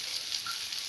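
Elephant yam coated in masala frying in a pan, a steady soft hiss of sizzling oil running evenly throughout with no talking.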